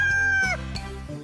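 A cartoon rooster from the Horseland animated series gives a brief, strained crow, heard loud and close for just over a second.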